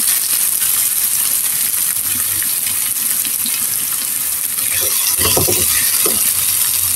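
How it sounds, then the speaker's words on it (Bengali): Onion, potato and eggplant fry together in hot oil, making a steady, loud sizzling hiss throughout. A few brief spatters and bubbling pops rise near the end. "আমি পেঁয়াজ, আলু, বেগুন সবগুলি একসঙ্গে ভাজি করে নিচ্ছি।"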